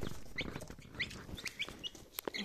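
Young Brahma chicks in a henhouse peep and cluck in quick, scattered bursts, soft and fairly close, with small rustling in between.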